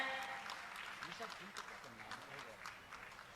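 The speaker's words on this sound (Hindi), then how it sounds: "आपकी तालियां अनवरत जारी रहना चाहिए।" Audience applause fills a Jain religious gathering, a steady crackling clatter of many hands that carries on throughout while someone speaks over it.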